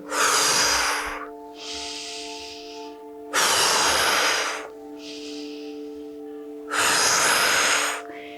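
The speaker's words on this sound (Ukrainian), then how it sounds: "Вдих і різкий видих." Three loud, sharp exhales through the nose come at a steady rhythm as part of a breathing exercise, each followed by a quieter, longer inhale, with a faint sustained tone underneath.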